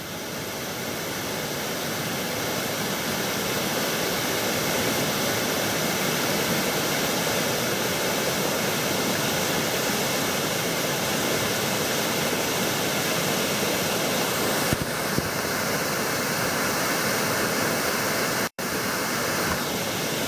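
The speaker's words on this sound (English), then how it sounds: "today we've got a full-on waterfall" The Mooney Ponds waterfall in Brisbane Water National Park runs in full flow after two days of rain, a steady, loud, broadband roar of falling water that continues unbroken with no voices.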